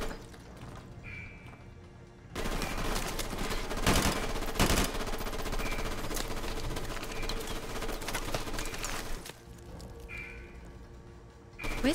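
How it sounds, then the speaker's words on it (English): Heavy automatic gunfire in Call of Duty: Modern Warfare Remastered, loud sustained bursts of machine-gun fire lasting several seconds, with quieter stretches before and after. "Where's he shooting from?"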